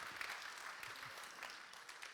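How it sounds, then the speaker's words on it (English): Conference attendees at DevOn Summit 2017 give a speaker a warm round of applause; quiet, somewhat distant clapping with scattered individual claps runs briefly and evenly, with no voices. "give him another warm round of applause"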